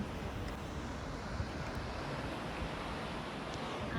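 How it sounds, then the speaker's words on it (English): McWay Falls pouring straight into the Pacific at Big Sur: a steady broadband roar of falling water and surf, continuous and fairly loud, with some wind buffeting the microphone and no voices. "this waterfall is one of only 2 which fall directly into the ocean"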